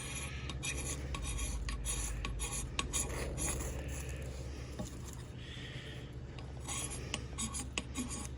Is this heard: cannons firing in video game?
no